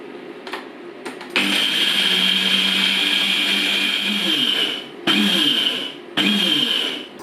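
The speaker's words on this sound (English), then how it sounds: "I'm just going to pulverise the matzo crackers." A blender pulverising matzo crackers for a beef and bean cholent, with a loud sustained whir that stops twice and restarts in short bursts.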